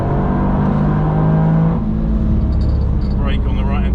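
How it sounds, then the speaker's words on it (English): Toyota GR Yaris on the Nürburgring Nordschleife at a track day, engine droning loud and steady through a corner, then the note drops and builds again as it accelerates on the exit, with tyre and wind noise throughout. "Try and get back to the next one and then we can accelerate on the exit"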